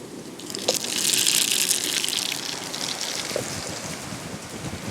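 Whole cumin seeds hit hot oil in a pan for an okra masala dish, raising a steady, loud hiss and crackle that swells and holds for several seconds with no voice over it.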